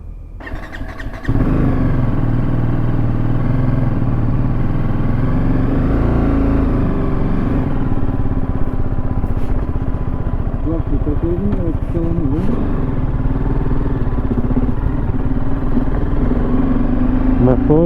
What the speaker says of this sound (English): My first ride on my GS, and the first ride is a very big one